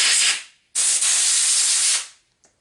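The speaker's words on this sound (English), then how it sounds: "you spray this carb cleaner on the gasket, it messes it up" Carburetor cleaner sprayed onto the carburetor gasket of a Troy-Bilt lawn mower: two loud hissing aerosol bursts, a short one and then a longer steady blast of about a second and a quarter, followed by a tiny puff.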